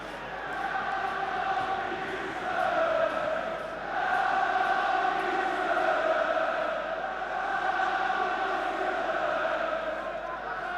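A large football crowd at the 1983 UEFA Cup final between Tottenham and Anderlecht chants in a sustained, echoing roar with rising and falling waves, under a commentator's voice.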